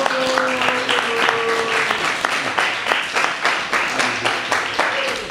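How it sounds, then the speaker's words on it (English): Devotees at a temple lecture clap in a short burst of applause, a mixed patter of hands that is fairly loud and close, with some faint tones and voices underneath. "Please give him a round of applause."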